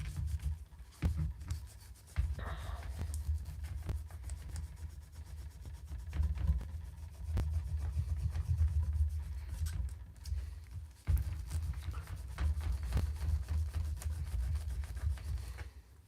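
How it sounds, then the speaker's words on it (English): A cloth soaked in alcohol is rubbed over a Masterverse Beastman action figure to lift a brown wash. It makes a close, quiet, repetitive scrubbing and rubbing sound, broken now and then by small pauses. "let's just do a lot more rubbing on him and see if we can't get this brown off of him"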